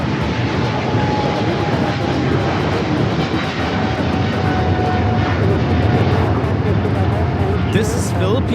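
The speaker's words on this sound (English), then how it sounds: "This is Philippine Airlines Flight 113 taking off to Manila on the 777-300ER." Philippine Airlines Boeing 777-300ER jet taking off from Los Angeles LAX, a loud, steady engine roar sustained throughout, with a faint thin whine running underneath.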